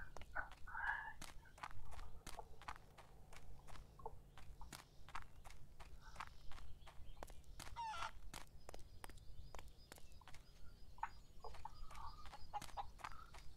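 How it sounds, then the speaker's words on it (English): Chickens moving around a farm yard, with scattered clucks and calls amid a dense run of sharp clicking and tapping sounds, faint and outdoors with some background noise. "Oh, chickens."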